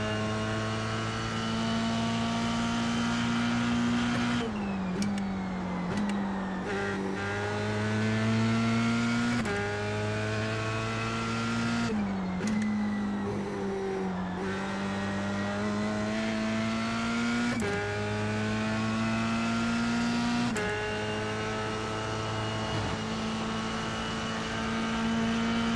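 An F3 race car engine in the iRacing game at Watkins Glen drones steadily at high revs, dipping sharply at several gear changes and braking points before climbing again, loud and continuous with no talk.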